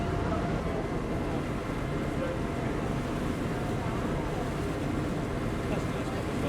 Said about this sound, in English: One of these boats going the other way.